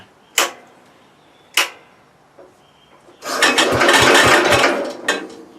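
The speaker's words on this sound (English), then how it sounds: "let's see if she cranks over now with the new battery in." Antique garden tractor engine cranking over on a fresh battery: two sharp clicks, then a loud grinding burst of about two seconds with rapid low thumps, stopping without catching.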